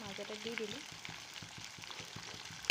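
Onions frying in a pan for an Assamese fish and cauliflower dish, a steady low sizzle with soft stirring ticks, while a voice speaks briefly at the start.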